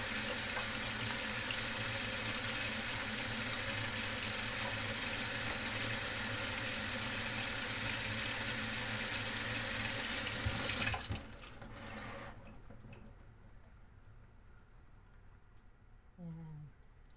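Cut green beans rinsed under a running kitchen tap for Lebanese loubieh, a steady rushing water stream for about eleven seconds, then the tap stops, leaving quieter handling sounds and faint noises.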